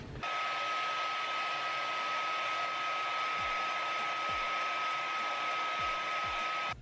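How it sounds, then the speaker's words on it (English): A hair dryer blows on a knitted pom-pom, a steady loud whirring roar with a fixed whine that runs without a break for several seconds, no voices over it. "Okay, let's blow dry."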